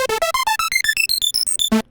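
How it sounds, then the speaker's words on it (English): The Menace synth's arpeggiator steps rapidly upward through bright plucked notes, about sixteen evenly spaced hits climbing in pitch, ending on a lower sustained note. "The arpeggiator is this guy."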